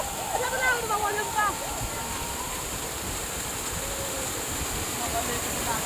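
Baklai waterfall makes a steady, even rush of falling water, heard from nearby as a constant broadband roar. Faint voices sound over it early on.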